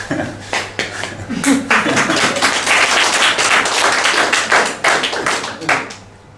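An audience breaks into applause, a loud burst of many hands clapping with sharp individual claps standing out, continuous for several seconds.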